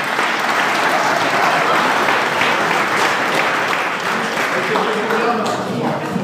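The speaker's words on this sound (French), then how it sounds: "on peut les applaudir bien" A large audience applauds steadily and loudly at an inauguration ceremony for a sports hall in Caudry, a dense continuous roar of clapping throughout with voices mixed in.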